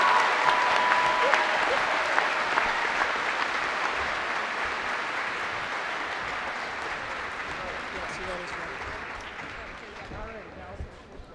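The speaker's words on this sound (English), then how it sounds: "please join me on behalf of the Board of Education and Administration, giving Mr. Flayton a round of applause" Audience applause at a Board of Education meeting fills the room, a steady dense clapping that slowly fades over about eleven seconds, with murmured voices mixed in.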